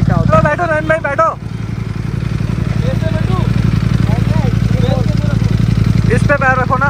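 A Ducati V4 motorcycle engine runs with a steady low rumble throughout, while people talk loudly over it near the start and end.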